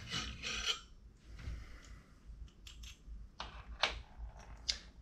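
Quiet close-up scraping and metallic clicks as screws are backed out of the Z axis bracket on a Creality Ender 3 3D printer, several short taps and rasps in a near-silent room.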